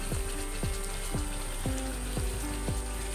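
Meat is slowly fried (kosha) in a pan after potatoes were lightly fried in it, giving a steady bubbling sizzle with regular sharp pops and spits throughout.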